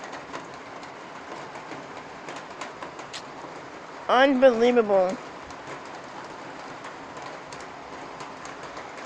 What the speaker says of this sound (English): it just started raining so hard